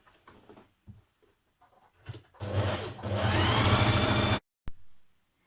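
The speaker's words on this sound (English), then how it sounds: "you can now stitch around your pocket." A sewing machine runs in one steady burst of several seconds while stitching around a pocket on an unlined coat, preceded by a few faint handling clicks and followed by a short final whir.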